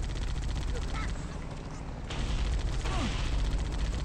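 Gunfire and a grenade blast during a Halo: Combat Evolved firefight, with dense rattling shots running throughout and a heavier burst partway through, all under steady battle noise and a voice speaking.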